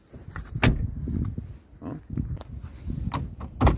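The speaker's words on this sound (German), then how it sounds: "Tür öffnet sich, Tür schließt sich wieder." Two distinct thuds about three seconds apart, a Volkswagen Lupo car door swinging open and then shut, over low rumbling background noise.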